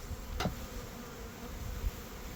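Honey bees buzz faintly around an opened spring hive, a low soft hum with one brief closer pass of a single bee.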